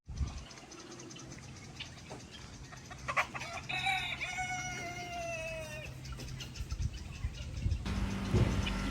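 Chickens cluck around a coop while a rooster lets out one long crow in the middle, alone and fairly close, with more clucking and scratchy yard noise continuing after it.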